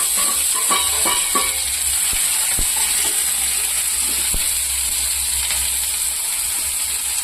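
Onion sautéing in hot oil with mustard seeds and cumin in a kadai gives a steady close sizzle, with a few faint metallic clicks and taps from stirring.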